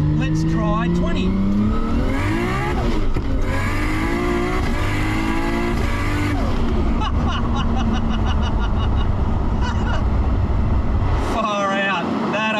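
Skyline GT-R with an RB30 3.2-litre engine at around 800 whp and 20 psi boost, accelerating hard with rising revs and hitting the rev limiter, loud and close throughout.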